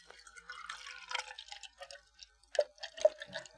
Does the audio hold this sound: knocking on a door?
no